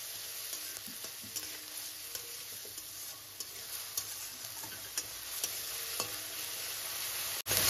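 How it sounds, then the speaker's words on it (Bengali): Soft, steady sizzling of grated onion frying in a pan over low to medium flame, with faint clicks and scrapes of stirring and a sharp knock near the end. "পেঁয়াজটা 30 সেকেন্ড মতো লো টু মিডিয়াম ফ্লেমে নাড়াচাড়া করে নিয়েছি"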